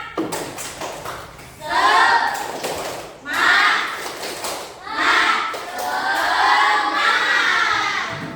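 A classroom of children performs a rhythmic spirit clap, chanting together in loud bursts with claps, the group voices rising and pausing in several waves.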